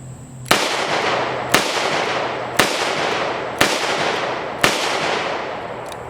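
Ruger SP101 .357 Magnum revolver firing 158-grain full metal jacket rounds: five sharp, loud shots spaced about a second apart, each cracking and then ringing out in a decaying tail.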